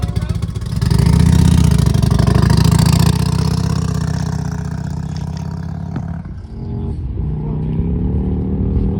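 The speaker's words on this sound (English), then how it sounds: "You can hear it revving out now." A loud motorcycle engine roars and revs nearby at Bonneville, holding a high throaty pitch before dropping off and rising again.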